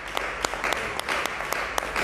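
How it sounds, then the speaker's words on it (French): A congregation claps during a sermon on grace, sustained applause with distinct sharp claps punctuating it at a fairly regular rhythm. "Ça mérite les acclamations."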